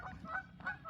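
Geese honking during an outdoor walk, a short burst of harsh nasal calls that rise and fade twice, fairly close and unaccompanied by talk.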